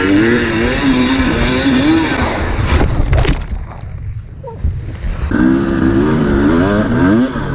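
A 2018 KTM 300 XEW two-stroke dirt bike races through slick terrain at an enduro hare scramble, its engine revving hard up close, dropping away briefly mid-clip before surging back loud.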